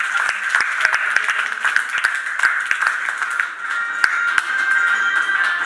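Audience at a Rajyoga meditation event for special children applauds in scattered, uneven claps, individual sharp hand strikes standing out over a steady hum in the room.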